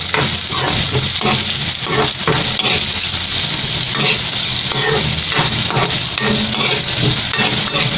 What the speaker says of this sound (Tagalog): hintayin lang natin mag-caramelize ang ating sibuyas mga paps